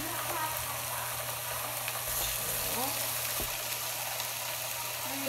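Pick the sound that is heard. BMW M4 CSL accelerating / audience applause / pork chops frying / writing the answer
pork chops frying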